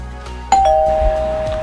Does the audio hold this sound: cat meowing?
no